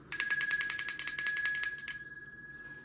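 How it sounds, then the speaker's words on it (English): A hand bell rung in a quick steady series of about fifteen bright metallic strokes over roughly two seconds, then left to ring out with a long fading shimmer. It is loud and close, with no talking over it. "I'm about to ring this bell."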